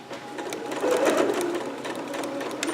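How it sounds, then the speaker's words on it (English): A sewing machine back-stitches along a dress seam with a fast, even mechanical whir and needle clatter, close by. It runs steadily for a few seconds with no talk. "So back stitching. Just continuing along here."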